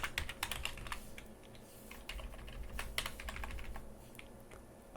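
Rapid typing on a computer keyboard during web coding, a quick irregular patter of crisp clicks, close and moderately quiet with no speech over it.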